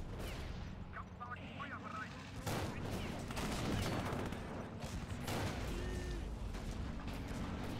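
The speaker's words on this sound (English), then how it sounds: "Someone's firing at the Panther or something." Rapid bursts of gunfire crackle across a World War II battlefield in the game Real Warfare, aimed at a Panther tank, layered and sustained with sharp louder volleys mid-clip over dense battle noise and some talk.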